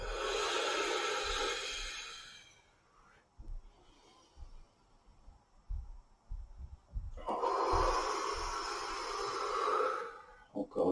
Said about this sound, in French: Grande inspire, longue expire.